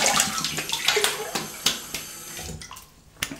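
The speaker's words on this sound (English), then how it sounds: "let me just have a quick rinse with cold water." Cold tap water splashed over a face after a wet shave, quick irregular splashes and dripping close to the microphone over a running faucet, fading out near the end.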